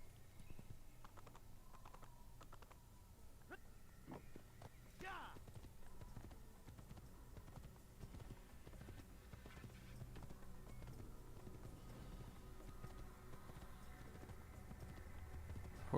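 Faint clip-clop of a horse's hooves while riding in the video game Assassin's Creed, a soft repeating gait under quiet background, with scattered keyboard-like taps throughout.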